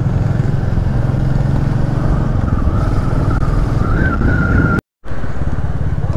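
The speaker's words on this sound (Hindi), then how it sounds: "ये आगे बाइकर लोग काफी चल रहे हैं।" Cars and motorcycles travel a mountain road in Ladakh beyond the Kargil memorial. A steady, loud engine and road drone runs throughout, with a brief cutout near the end.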